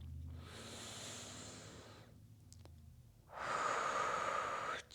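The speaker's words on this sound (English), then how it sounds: "Let's take one more breath here." A slow, deep breath during a full-body stretching session: a soft airy inhale that builds and fades, a pause, then a louder, fuller breath close to the mic, with no talking.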